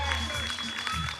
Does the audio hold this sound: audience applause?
yes